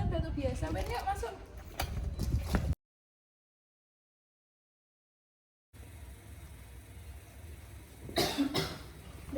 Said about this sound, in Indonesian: aku kok juga batuk ya